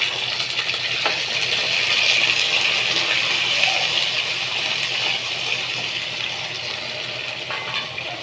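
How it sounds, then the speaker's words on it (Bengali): Water is poured into a bowl while washing it in a kitchen, a steady splashing gush with bright sloshing, continuous and fairly close. "বাটিটা ধুয়ে একটু জল দিলাম"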